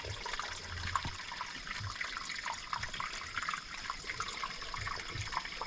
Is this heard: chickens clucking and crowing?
no